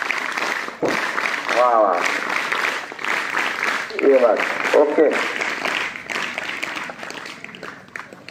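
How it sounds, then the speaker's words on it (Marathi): Applause breaks out at a school award ceremony, with scattered clapping mixed with voices calling out and talking over it. The clapping rises and falls in bursts. "टाळ्या कमी पडतायत."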